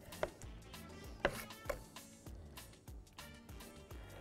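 A knife cuts zucchini into quarters on a cutting board, giving a series of quiet, uneven chopping taps, a few sharper knocks among softer cuts, with no speech.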